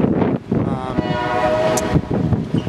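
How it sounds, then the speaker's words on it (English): A train rumbles past nearby in Alaska, its steady roar joined by a sustained horn blast that holds for over a second before fading into the rail noise. "Y'all can hear the train."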